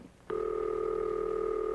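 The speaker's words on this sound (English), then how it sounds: "That's the ringing signal, an interrupted burring sound." A 1950s Bell System telephone ringing signal comes through the handset after a short pause, a steady close burring tone with a low buzzy texture, loud and alone.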